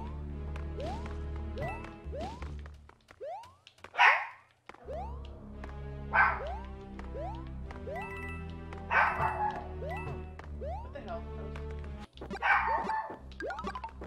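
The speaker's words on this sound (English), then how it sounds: "My dog keeps barking." A dog barks repeatedly indoors over bright, tuneful video game music and sound effects from New Super Mario Bros. Deluxe, with a few louder bursts mixed in.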